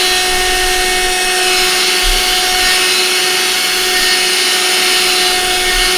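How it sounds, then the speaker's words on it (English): A vacuum cleaner picks up a pastel mess with a loud, constant motor whine and rushing air that never lets up. "Now I've got to vacuum everything here."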